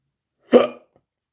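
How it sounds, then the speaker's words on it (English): A single short hiccup, abrupt and close, a brief voiced gulp followed by silence. "what is going on with those hiccups?"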